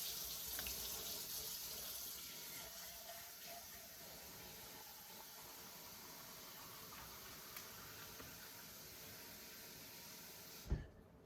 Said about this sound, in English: fill this up twice with water, and add it to here